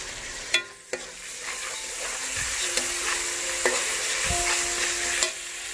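Onion and ginger paste fry for pulao, a close, steady sizzle punctuated by several sharp spatula knocks and clanks against the pan as it is stirred.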